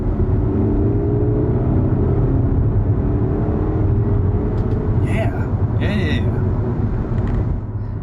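Steady engine rumble and drone from a BMW X1 fitted with a Dinan boost controller set to race mode, heard from inside the cabin and holding loud and even throughout, with a couple of brief higher chirps near the end.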